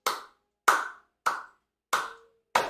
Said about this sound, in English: So you just start out by clapping